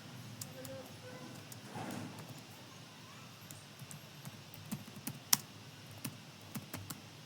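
Faint, sparse keyboard clicks of someone typing code, a few scattered taps building into a quicker run of keystrokes near the end, quiet and close, with a soft voice speaking early on.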